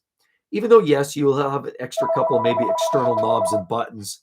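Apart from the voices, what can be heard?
landline telephone ringing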